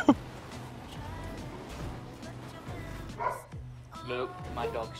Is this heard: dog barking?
yes